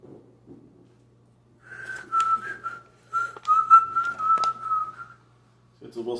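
A person whistles a short tune in close, clear phrases of several sustained and bouncing notes, with a pause between phrases, in an otherwise quiet room with a faint low hum.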